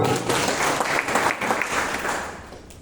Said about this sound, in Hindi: इस हॉल में बैठे सम्मानित सभी साथियों के लिए जोरदार ताली।